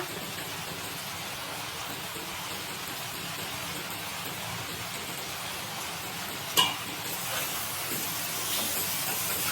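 Ginger paste and spices frying in oil for mustard hilsa, a continuous hissing sizzle with one sharp clack of a utensil midway, steady and close with no speech.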